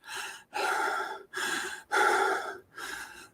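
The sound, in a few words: breathing in and out during meditation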